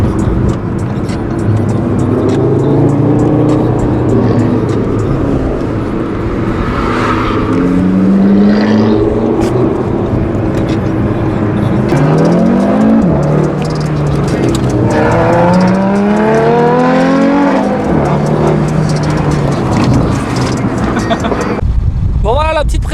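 An Audi RS3 sedan with a 400 hp engine revs and accelerates hard, loud and close, with rising engine sweeps and gear changes building through a long run, while people talk over it.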